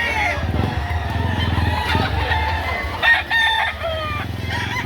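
Roosters and stags crow repeatedly at a chicken market in Lipa, Batangas, several overlapping calls near and far over clucking and steady background bustle, with a motor droning faintly beneath.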